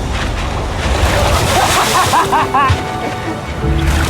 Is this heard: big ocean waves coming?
yes